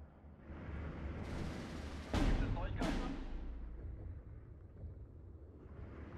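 Bombers strafe with gunfire in Steel Division 2, heard as a rumbling barrage with two sharp, loud bursts of fire over a constant low roar of battle.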